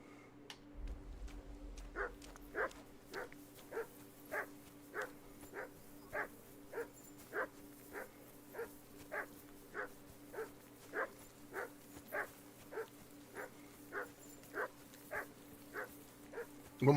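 Mutt, the dog in Kingdom Come Deliverance 2, barks over and over in a steady rhythm of about one bark per second, moderately loud above a low background hum.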